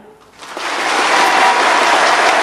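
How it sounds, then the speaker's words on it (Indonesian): A seminar audience claps enthusiastically, a brief quiet moment giving way to a loud, thick wash of rapid applause that swells quickly and holds steady. "Kalau boleh Bapak Ibu silakan tepuk tangan yang meriah"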